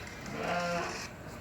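A single goat at a livestock market in Kyrgyzstan gives one short, wavering bleat close by, with quiet background murmur around it.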